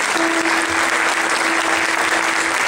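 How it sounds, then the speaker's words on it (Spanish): Loud, steady applause from a concert audience, dense clapping that fills the whole moment without a break, with a faint sustained tone running beneath it. "démosle un fuerte aplauso a los muchachos"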